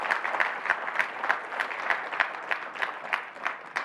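Steady applause from an audience, many hands clapping with a few louder claps standing out, continuing without a break.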